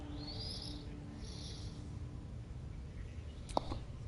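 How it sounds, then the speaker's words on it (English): A pigeon in the Baldur's Gate 3 video game gives two soft, breathy cooing calls followed by a brief click, quiet against low ambient background. "Listen to him coo."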